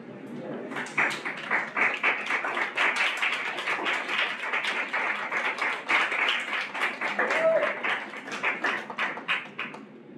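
Audience applauding guests as a gathering of teachers is welcomed, a steady sustained round of many hands clapping for about ten seconds, close and fairly loud.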